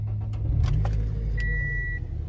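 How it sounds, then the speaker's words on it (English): A 2012 Scion xB idles steadily close by after starting, its low engine drone continuous beneath a short electronic chime and a few clicks in the cabin. "Fires right up."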